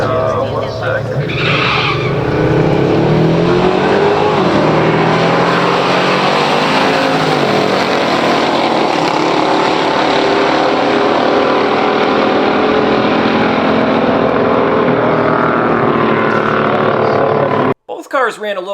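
A 1971 Plymouth Barracuda 440 and a 1971 Buick GS455 drag racing roar loudly and continuously, engines screaming at full throttle for many seconds before the sound cuts off abruptly.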